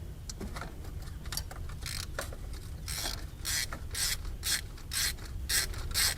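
A hand ratchet clicks in quick bursts while loosening the valve cover bolts on a 1977 Chevrolet Caprice, sharp close metallic ticks in short runs with brief pauses between strokes, fairly quiet overall.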